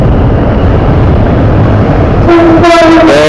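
Near Dhaka during the Eid travel rush, a train passes close and loud with a heavy, steady roar of wheels and cars, then a sustained horn blast sounds over the last second.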